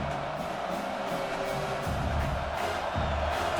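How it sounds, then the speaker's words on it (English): A football stadium crowd roars steadily behind the home defense on third down, a loud continuous wall of cheering that swells slightly midway with no distinct voices standing out. "Decibels rising as the crowd gets behind this defense on 3rd down"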